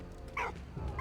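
A dog in the video game Valiant Hearts gives two quick yapping barks over a low game soundscape, moderately close and with no talk.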